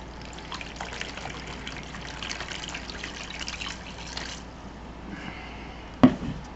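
Water is poured and trickles into a bucket holding compressed coconut fiber bricks, a steady soft pouring that stops with a short thud near the end.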